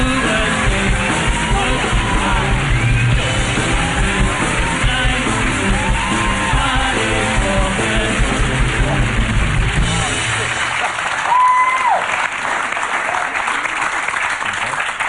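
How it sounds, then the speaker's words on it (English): A studio audience cheers, whoops and applauds loudly and continuously as Australian cricketer Shane Warne is welcomed onto a television show, with a host's voice over the crowd. "Is that the best cheer you've ever got in England?"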